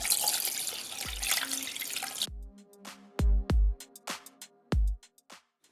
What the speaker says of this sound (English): the brine is cooled down to room temperature and ready to be poured in